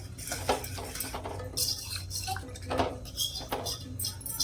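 A metal plate lifted out of a pot of thickened milk, scraping and clinking against the pot with busy, close metallic knocks and rattles.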